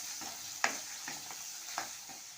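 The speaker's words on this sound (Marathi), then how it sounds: "आता वाटण थोडंसं परतून घ्यायचं आहे" Onion and tomato paste sautés in oil with a soft, steady sizzle. A few distinct spatula scrapes and taps sound close by.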